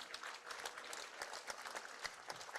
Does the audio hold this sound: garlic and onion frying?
no